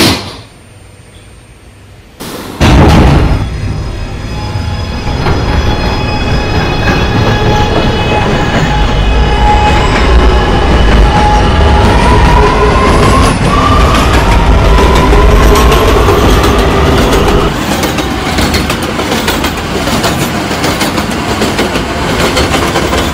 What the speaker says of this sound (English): This is a 207th Street bound A train.